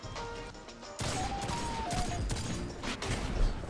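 Hand cannon shots in a video game firefight, a few sharp booming cracks over a dense bed of game noise and clatter, with no voices.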